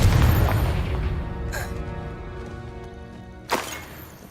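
Spell blasts from the Confringo explosion spell boom in Hogwarts Legacy. A heavy low rumble opens the sequence and fades, then two sharp, bright bursts strike about two seconds apart.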